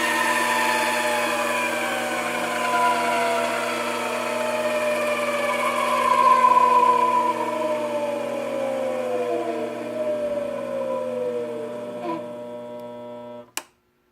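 Spindle of a Grizzly mini lathe winding down toward zero, its motor whine gliding steadily lower in pitch under a constant hum, close and unaccompanied, ending in a brief click and sudden silence.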